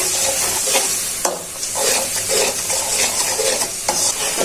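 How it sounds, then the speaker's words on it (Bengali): Spice paste with ginger and garlic paste stir-fried in a pan for an egg and potato curry, a steady sizzle broken by scraping spatula strokes, close up with no talking. "দিচ্ছি সাথে আদা বাটা পরিমাণ মতো, রেখে মশলাটা কষিয়ে নিই"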